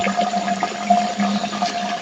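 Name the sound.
water rushing through gravity pipe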